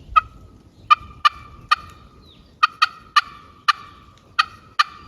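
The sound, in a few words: turkey pot call clucking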